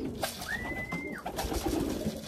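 Pigeons coo near a keeper who is coaxing the birds down to land, with a clear drawn-out call standing out against steady outdoor background noise.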